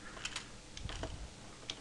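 Typing on a computer keyboard while coding: scattered, uneven clicks and key taps in short bursts, close and fairly quiet, with no talking.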